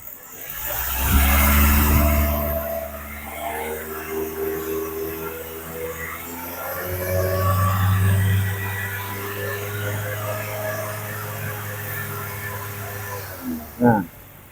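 A car engine revving during a radiator flush, with a steady low hum that swells and eases over about a dozen seconds, near and fairly loud, ending in a brief sharp burst.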